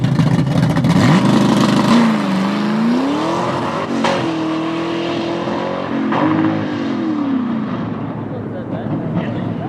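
A stick shift wagon's engine revs during a burnout and bogs hard against a lowered rev limiter, loud wavering engine drone rising and falling, heard close with someone talking over it.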